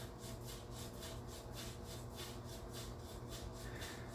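An Omni Shaver razor scrapes across a shaved head in steady, evenly repeated strokes, close and continuous with no talking.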